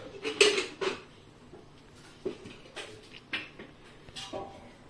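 A second kadai pan set down on a stove, with a couple of bright metallic clanks near the start followed by lighter scattered knocks and clinks of cookware.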